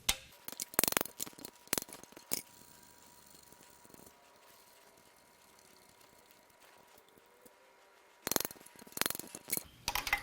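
Bolts being worked loose from the cylinder head of a Hyundai Genesis 4.6 V8 Tau engine during teardown, with bursts of sharp ratchet clicks near the start and end around a quiet stretch of faint handling noise.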